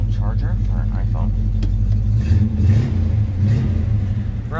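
A 1971 Chevrolet Nova SS with a 350 V8, mild cam and 4-speed runs at idle nearby, a deep, loping rumble with a brief rev, as someone talks over it.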